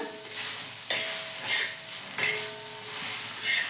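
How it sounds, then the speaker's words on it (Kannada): Cumin, garlic and curry leaves frying in a pan for chutney, a close continuous sizzle broken by several sharp spatula stirs and scrapes against the metal, no voices. "ಸ್ವಲ್ಪ ಜೀರಿಗೆ ದಾಡ ಬೆಳ್ಳುಳ್ಳಿ ಸ್ವಲ್ಪ ಇನ್ನೂ ಸ್ವಲ್ಪ ಫ್ರೈ ಮಾಡ್ತೀನಿ ಇದನ್ನ"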